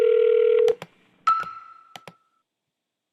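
A short electronic tone sounds, followed by a few clicks and a second brief tone, then faint clicks and silence, like a SIP phone call connecting to Teleku.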